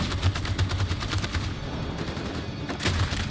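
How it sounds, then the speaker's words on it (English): Sustained machine gun fire from the video game Detroit: Become Human rattles in steady rapid bursts, fairly loud and continuous, with a brief lull before a renewed volley. "That machine gun is taking down everything that moves."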